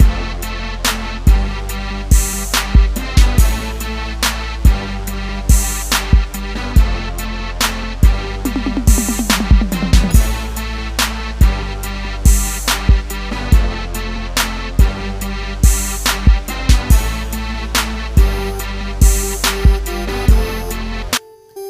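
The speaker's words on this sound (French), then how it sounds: "il s'agit du son de synthé des Rapture de chez Kalkwelk" Rapture synthesizer from Kalkwelk layered into a dirty beat with guitar: a dense, continuous synth texture over heavy low bass and punchy repeating drum hits, loud and steady throughout.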